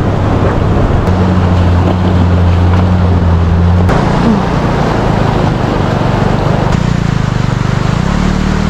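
Rushing snowmelt water runs across a high mountain road on the way to Ladakh, a loud, steady broadband roar that fills the whole clip, with a low engine-like hum underneath and no talking.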